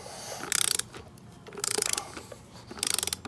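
A hand ratchet clicks rapidly in three short bursts while tightening bead lock bolts on an RZR wheel, close and crisp, with quiet handling noise between the bursts.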